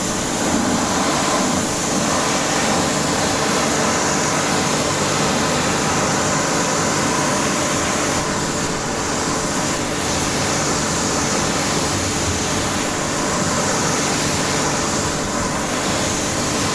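A steady, loud hiss of pressurized water spray rinses a dirty car wheel and rim, continuous broadband rushing with slight shifts in intensity as the jet moves, no voices.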